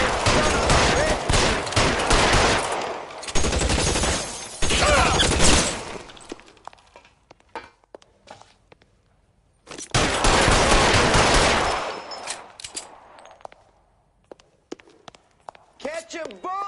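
Gunfire from a shootout in the video game LA Noire: loud sustained volleys and rapid bursts in two long stretches, separated by quieter gaps with scattered single shots.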